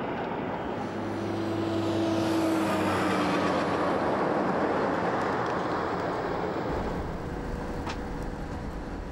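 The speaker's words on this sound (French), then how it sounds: "Retour sur la Stuart Highway et les road trains sont toujours là." Heavy road trains rolling along the Stuart Highway in Australia's outback, a loud, sustained rumble of engines and tyres with low droning tones building and then holding steady, with no voices.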